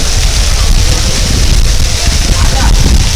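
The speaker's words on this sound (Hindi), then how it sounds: "अभी बहुत ज़ोर की बारिश शुरू हो गई है" Loud, dense rain pours steadily close by at Buland Darwaza, a constant hiss and patter with wind rumbling underneath.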